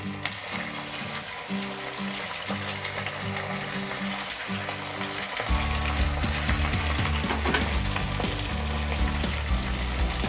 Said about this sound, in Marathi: आता आपण फास्ट गॅसवर हे पकोडे टाकूया.